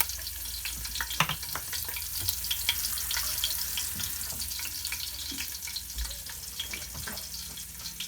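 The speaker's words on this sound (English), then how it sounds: "a little bit of black pepper in the oil" Black pepper frying in cooking oil for Jamaican curry goat: a steady, soft crackling sizzle with scattered sharper pops, close and continuous.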